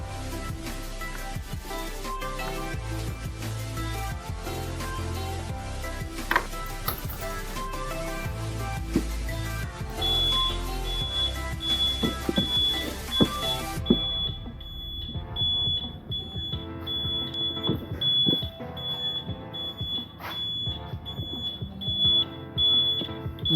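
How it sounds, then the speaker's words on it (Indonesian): Shrill, tinny buzzer for a motorcycle turn-signal reminder, wired to the indicator lamp circuit, beeping steadily throughout, loud at first and then partly muffled as its speaker opening is covered. "Buzzer ini suaranya cukup cempreng juga ya teman-teman"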